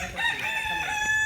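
A village rooster crows once in a long, loud, ringing call that fills the whole moment, with no other voices around it.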